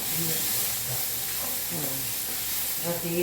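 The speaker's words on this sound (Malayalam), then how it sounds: "മമ്മി പാവയ്ക്ക കരിയുന്നു" Bitter gourd sizzles and hisses as it burns in a hot pan, a constant close frying sound with faint voices talking underneath.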